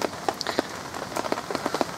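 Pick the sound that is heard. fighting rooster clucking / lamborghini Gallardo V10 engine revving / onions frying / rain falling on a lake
rain falling on a lake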